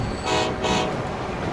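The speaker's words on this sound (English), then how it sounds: "Oh, there goes a train." Train passing in the video game Transport Fever 2, a steady rumbling rail sound with two brief horn-like toots near the start.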